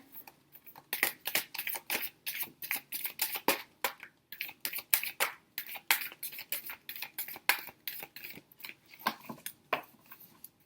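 Tarot cards shuffled by hand in a quick series of crisp riffling bursts and snaps, close and fairly quiet, with no talking.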